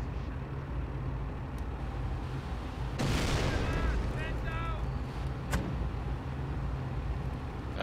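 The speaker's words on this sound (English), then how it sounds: "I'm having my mortar barrage just barraging down their own territory over here" Mortar barrage in the World War II strategy game Company of Heroes, a dense burst of booming impacts and crackle rising suddenly over steady battle rumble and engine drone, with voices talking throughout.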